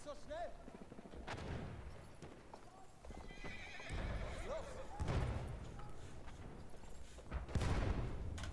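Hooves clip-clop at a gallop while a horse neighs in the video game Battlefield 1, with gunfire cracking around it and a voice talking over the action.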